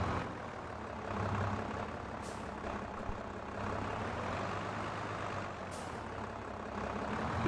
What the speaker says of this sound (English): I do like this tractor, especially the noises it makes.